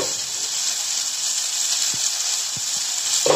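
Pumpkin flowers sauté in a pan with a steady, even sizzle and hiss running throughout, close by, broken by a few faint soft taps toward the end and no talking.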